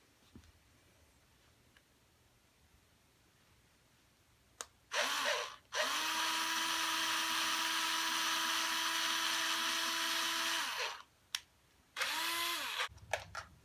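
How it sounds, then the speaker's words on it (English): A power drill whines steadily for several seconds as it bores screw holes in a Telecaster guitar body, starting after a quiet lead-in and ending with short bursts and a brief restart, close and loud. "Now we do the hole drilling."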